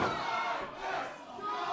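Wrestling crowd in Quincy, Massachusetts cheering and roaring, a loud, dense swell of shouting voices that dips briefly and surges back over a short span.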